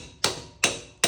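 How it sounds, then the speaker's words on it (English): Three sharp metallic hammer strikes, evenly spaced and close, driving parts onto a Dodge 3.9L engine during timing chain and front cover work. "We're gonna hammer them on."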